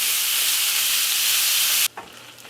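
Ground beef browns in a frying pan with half an onion, giving a steady loud sizzle that cuts off abruptly near the end, leaving faint clinks and quiet.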